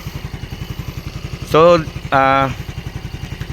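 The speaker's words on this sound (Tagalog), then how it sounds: "So napakatahimik din ng kanyang makina." A 2024 Yamaha Mio Fazzio 125cc scooter idles quietly, a steady soft low putter running through the whole stretch, with two brief spoken phrases rising over it.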